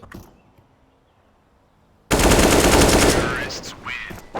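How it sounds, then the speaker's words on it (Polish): Automatic gunfire in the shooter game CS:GO: after a quiet stretch, a loud, sudden burst of rapid shots erupts close by and rattles on for about two seconds before trailing off. "strzela do mnie"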